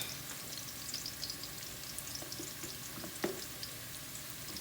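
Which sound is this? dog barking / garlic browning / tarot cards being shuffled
garlic browning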